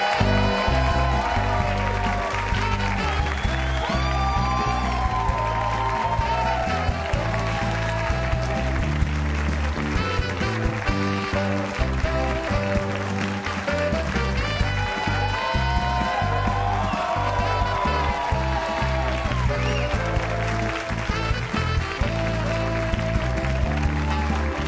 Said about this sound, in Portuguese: A música e os aplausos.